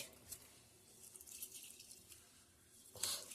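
Parboiled rice is washed in water, faint splashing and trickling with a louder swish near the end, quiet and close, with no talking.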